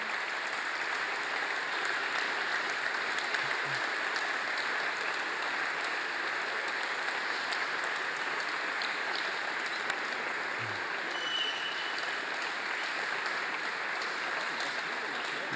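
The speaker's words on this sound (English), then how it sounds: "a round of applause for them" Applause from a conference audience for the speakers invited onstage at a Java cloud-native closing keynote, a steady faint wash of many hands clapping in a large hall, continuous and even throughout.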